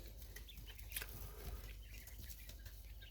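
Chickens cluck softly around their feed, quiet scattered cackles and a brief flutter over a low background rumble, faint and fairly close.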